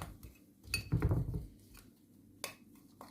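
Utensil clinking and scraping against a bowl while baking soda is mixed into a homemade stretch-mark paste, with a cluster of knocks near the start and a sharp clink later, fairly quiet overall.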